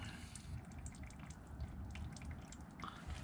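CVT transmission oil dribbling out of a 2012 Nissan Versa during an oil change, a faint, steady trickle and drip heard close and alone for a few seconds.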